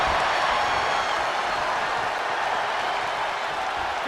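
In the video game WWE 2K25, an arena crowd cheers during a SmackDown match, producing a loud, steady roar of many voices and scattered clapping that holds without a break from start to finish.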